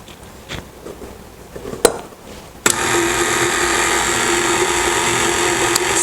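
A kitchen mixer whips cream cheese icing for a carrot cake, starting after a few light knocks and clinks, then running loudly and steadily with a constant whir for the rest of the time.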